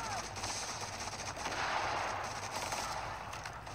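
Continuous bursts of automatic gunfire in The Division's Last Stand mode rattle steadily for several seconds, loud and close, with rapid overlapping shots and no clear pauses.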